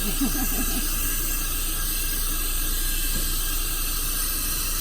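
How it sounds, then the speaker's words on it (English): Hot steam from a hat steamer used to shape a western cowboy hat, a steady close broadband hiss that runs unbroken with a faint low rumble beneath. "Of course, you got steam here, right? Yeah, real hot steam."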